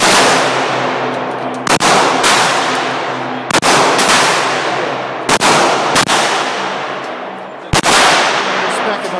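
A Saiga 12 shotgun fitted with a 20-round drum fires several loud, sharp blasts at uneven intervals, each booming report followed by a long ringing decay, with a pair of shots fired close together.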